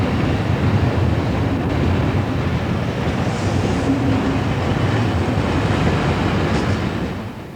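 A modern express train runs on the railway between Euston and Manchester. It gives a steady, loud rolling rumble with broadband rail and wind noise throughout, easing slightly at the end.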